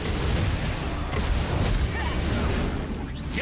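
Dense, continuous rumbling blasts from bombs going off in a video game, loud and close, a sustained roar of overlapping explosions with no clear gaps.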